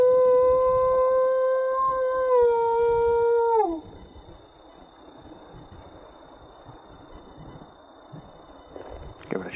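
A person howls in imitation of a wolf to call wild wolves on a snowy Minnesota trail: one long, loud, steady howl that slides down and breaks off, then quiet outdoor ambience.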